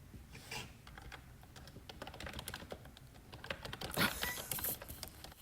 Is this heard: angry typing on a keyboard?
yes